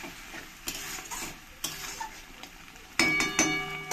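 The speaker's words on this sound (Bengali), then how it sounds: "এর মধ্যে দিয়ে দেবো সামান্য একটু জল, জলটা দিলে তাহলে মশলাটা পুড়ে যাবে না।" A spice mixture for a Bengali fish curry with taro cooks in a pan after a little water goes in, fairly quiet sizzling broken by spatula scrapes and a sharper burst of hissing near the end.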